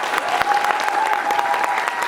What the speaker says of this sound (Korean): 자 우리 박수 치는 거 보고 결정하겠습니다.